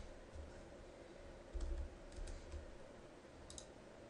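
Typing on a computer keyboard, a steady run of soft clustered keystrokes with a few sharper clicks, close and fairly quiet over a low background hum.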